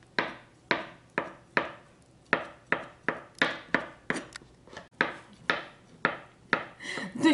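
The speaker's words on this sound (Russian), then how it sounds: "Я режу мелко яйца, но можно и не мелко." Boiled eggs are finely chopped with a knife on a board for a salad, a quick series of about fourteen crisp, close knife taps in a fairly even rhythm, no talking.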